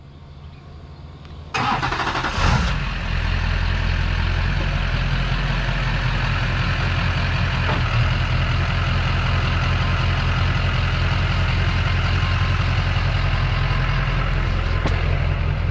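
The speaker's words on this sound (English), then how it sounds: "gonna have you pull forward like this, Zach, and then back it up, and I'll guide you, okay?" A Duramax pickup truck engine cranks and starts with a sharp burst, then settles into a steady, close diesel idle with a deep, even rumble that continues to the end.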